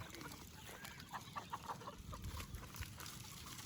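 Gamefowl roosters of Mount Banahaw lines, including grays, golden boys, white kelsos and SBRs, cluck in a short series of soft calls at a range area, heard over steady outdoor background noise.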